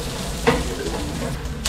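Garlic and onion frying until golden in a pan, a steady soft sizzle with a few light stirring scrapes, close and alone.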